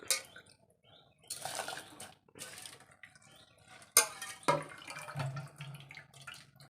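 Ration rice poured into a pot of hot, just-boiled water, heard as a short rustling pour and wet splashing that settles into a low bubbling simmer, with quiet utensil knocks before it.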